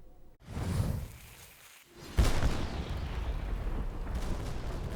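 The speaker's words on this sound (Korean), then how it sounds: "둥그런 포탄이 적진을 파고들더니 굉음과 함께 폭발이 일어납니다." A reenacted blast from a round Joseon-era time bomb shell: a swoosh, then a sudden loud boom with a long rumbling roar that fills the rest of the scene.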